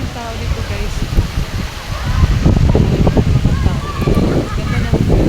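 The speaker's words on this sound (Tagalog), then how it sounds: "So windy here." Strong seaside wind buffeting loudly with a heavy low rumble and gusting roar, while people talk nearby.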